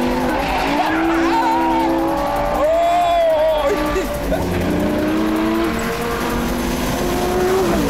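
A Lamborghini Gallardo sports car is driven hard, its engine wailing up and down through the revs while the tires squeal and skid. A voice is partly heard over the loud, continuous noise.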